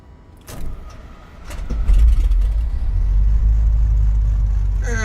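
An engine cranks and catches, rising from sputtering bursts into a loud, steady idle that settles near 1,000 RPM, close and continuous.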